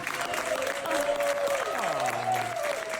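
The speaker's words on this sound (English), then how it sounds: "If everyone can please stand and give him a round of applause for everything he has done for us." Brief applause from passengers aboard a Southwest flight honoring a coach, a steady patter of clapping heard faintly in the cabin under a droning tonal hum.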